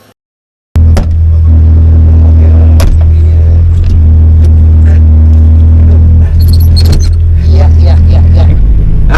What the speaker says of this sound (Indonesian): nah ini kita sekarang lagi ada di dalam mobil Suzuki Katana punyanya Om Acong atau Om Norman